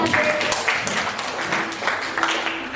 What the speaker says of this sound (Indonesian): Ya, tepuk tangan untuk kelas ini.